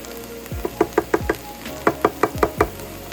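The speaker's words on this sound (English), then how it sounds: "You kind of want to just let your vegetables cook up" Vegetables frying in a pan for an omelette, sizzling softly beneath a series of sharp knocks and taps as a utensil strikes the pan in two quick rhythmic bursts.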